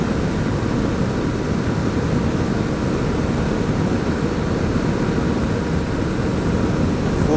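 A 2017 Yamaha WR250R motorcycle engine runs at full throttle near top speed, a steady, loud, dense roar mixed with wind rush that holds constant throughout without a break.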